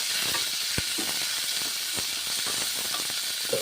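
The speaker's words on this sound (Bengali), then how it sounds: "টমেটোগুলো দিলাম ভেজে নিচ্ছি" Tomatoes fry in a pan with a steady, bright hissing sizzle, broken by a few soft stirring knocks, heard close and alone.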